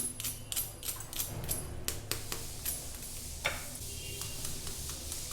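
Crispy fried snack made from semolina and oats with a vegetable filling, broken apart into a quiet series of sharp crackling crunches that come in short bursts against a low background hum.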